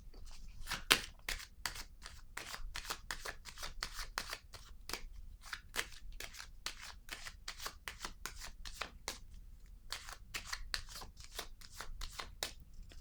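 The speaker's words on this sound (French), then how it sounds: "Je vais déposer une carte ici." Tarot cards are handled at close range, making a long run of rapid, crisp snaps and flicks with brief pauses, quiet and without any voice.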